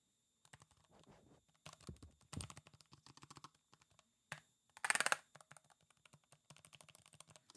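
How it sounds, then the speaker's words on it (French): Keys clack on a Falchion mechanical keyboard with flat switches, a quiet close-up patter of irregular taps with a louder burst of rapid strokes in the middle. "un bruit de clavier mécanique avec des switches plats"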